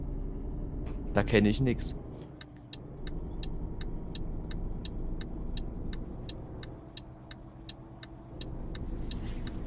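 A truck in Euro Truck Simulator 2 rumbles along at low speed on a Romanian road, its low engine drone steady beneath someone speaking German, with a rapid regular ticking like an indicator running through it.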